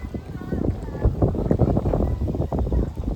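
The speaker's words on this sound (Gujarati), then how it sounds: "સારી બાજુ તો કેટલો બધો પવન છે જોવા" Strong wind ahead of a storm buffets the microphone outdoors, producing a continuous low rumbling roar with gusty surges, loud and close.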